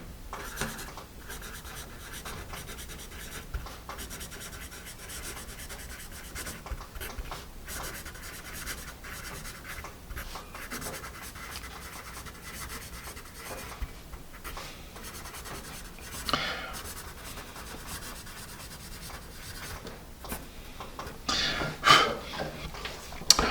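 A Paper Mate Mirado Earth Write #2 HB pencil scratches steadily across paper, a continuous close dry rubbing with small bursts and strokes, ending in a few louder marks.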